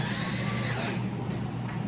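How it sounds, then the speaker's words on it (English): A power drill drives a 2-inch screw through a wall anchor, a loud close whirring buzz that runs steadily for under two seconds. "I'm going to take my drill"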